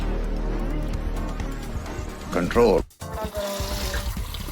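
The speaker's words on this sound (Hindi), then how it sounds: "उनका जो बर्तन है जिसमें वो पानी पीते हैं वो धो रहा है।" Water splashes and pours as a pigeons' drinking bowl is rinsed out, with a short louder gush over steady background noise and faint voices.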